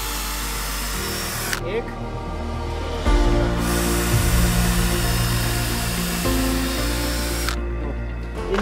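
A power drill bores holes into wood for a small chicken shed, whining steadily with pitch shifts as the bit bites, up close; someone speaks briefly over it.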